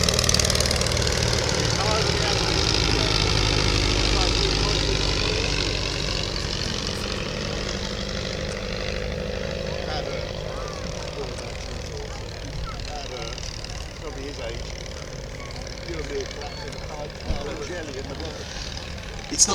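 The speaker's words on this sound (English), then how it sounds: "This is, of course, by definition, therefore, the oldest de Havilland moth flying in the world." A de Havilland DH-60 Moth biplane, the oldest still flying, runs its engine at a summer airshow, a steady propeller drone that is loud at first and slowly fades, with a sharp knock near the end.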